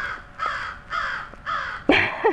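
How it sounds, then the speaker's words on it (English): A crow in a backyard caws four times in a slow, evenly spaced series, loud and fairly close, the last call harsher and more abrupt than the others. "I get a lot of crows in the backyard."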